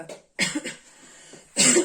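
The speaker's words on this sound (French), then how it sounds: "excusez-moi pour cette toux toujours très présente" Two or three harsh coughs up close, separated by a short quiet gap, with a final louder cough at the end.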